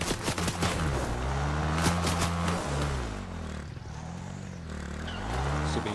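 Rapid bursts of gunfire in Fortnite crackle over a loud droning engine and shifting mechanical noise, with sharp clattering shots scattered through the first seconds.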